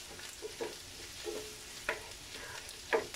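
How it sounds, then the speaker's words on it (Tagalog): Garlic sautéing in a pan for ginisang upo with corned tuna, with faint sizzling broken by a few sharp stirring scrapes and clicks of a utensil against the pan. "Let's just saute it."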